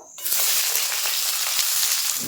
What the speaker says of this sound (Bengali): আমি পেঁয়াজ কুচিটা এখন তেলের উপর দিয়ে দেবো